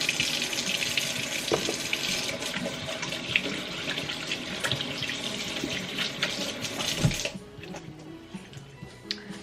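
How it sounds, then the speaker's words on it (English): Hands being washed under a running tap at a kitchen sink, with a steady broadband rush of water and small splashes that stops abruptly near the end, leaving quiet room noise. "I'll just wash my hands, I guess."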